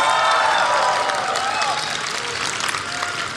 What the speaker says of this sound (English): Great applause